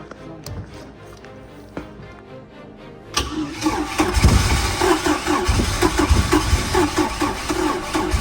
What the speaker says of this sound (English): we are going to be using starter fluid just to get this engine to crank on its own